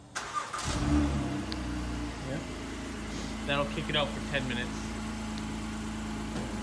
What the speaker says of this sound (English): hear the car start right up for you.